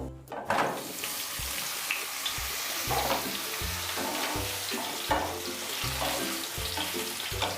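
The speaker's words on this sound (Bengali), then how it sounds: "এরপর বেগুন ভেজে নেব।" Eggplant sizzling in hot oil, a continuous close crackle with periodic low thumps and occasional clinks, no voices.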